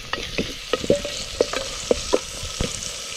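Curry leaves and tomatoes being sautéed in a pan with onions, close-up spoon stirs scraping and clacking in an irregular rhythm over a continuous soft sizzle.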